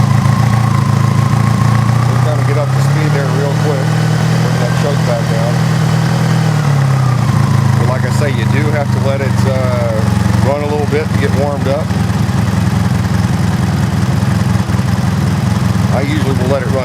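A 1984 Honda Magna motorcycle engine idling on full choke after a cold start, a steady loud mid-pitched rumble that shifts in pitch partway through, with voices talking over it at times.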